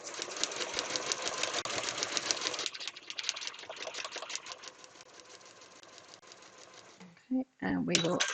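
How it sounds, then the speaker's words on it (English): A sewing machine stitches along a marked line on a small foundation paper pieced block, a fast steady whirring hum that slows and quiets toward the end before a few short clunks and handling sounds. "I take that across to the machine. And sew along."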